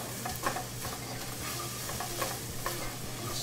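Garlic, ginger and scallions sizzle steadily in a hot pan while a spoon stirs them, a dense continuous hiss with soft scraping taps of the stirring, close and fairly loud, no talking.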